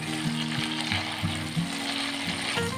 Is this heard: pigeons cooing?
no